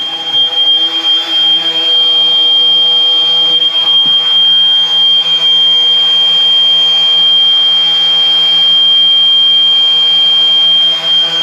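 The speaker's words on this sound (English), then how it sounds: "we have a fire system alarm going off" A boat's fire suppression system alarm sounds continuously and loudly as a steady high-pitched electronic tone, holding unbroken for the whole stretch with no talking over it.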